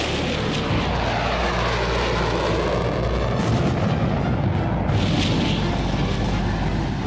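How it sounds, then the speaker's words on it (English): Military jets practicing steep-angle dive bombing runs, a loud, sustained roaring rumble of jet engines with heavy low-end thunder, swelling as an aircraft passes close by. "They practice steep-angle dive bombing runs on a tiny target."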